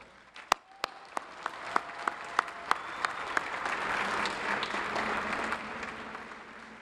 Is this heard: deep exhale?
no